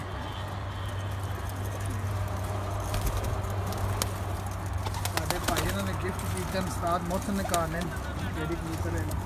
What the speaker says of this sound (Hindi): इन्होंने ब्रीडर कबूतर हैं सारे